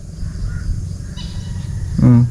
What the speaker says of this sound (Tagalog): Naririnig ni Bagwis yung uwak.